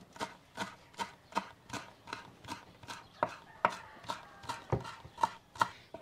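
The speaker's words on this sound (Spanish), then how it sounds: "También le voy a picar este ramito de cilantro. Miren, también lo vamos a picar así chiquitos los pedacitos." A knife chops a bunch of cilantro into small pieces on a board, with steady, evenly spaced crisp thuds, about two per second, close and alone.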